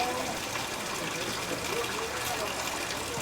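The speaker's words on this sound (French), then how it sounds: "on voit ici petite rigole qui se déverse dans deux puits finalement" In a Japanese garden, water from a small channel pours into two wells with a steady, close gushing rush, and a voice talks over it.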